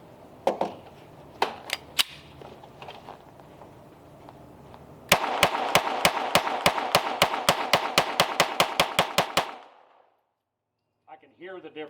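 Sig Sauer P322 .22LR pistol firing CCI Stinger 32-grain rounds in a rapid string of about fifteen sharp, loud, evenly spaced shots, preceded by a few scattered single shots and followed by silence.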